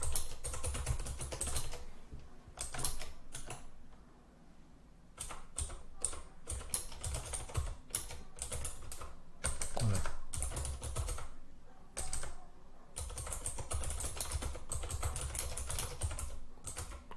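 Keys clacking on a computer keyboard as a computer model name is typed into Google, in bursts of rapid taps separated by short pauses, fairly close and clear with no talking.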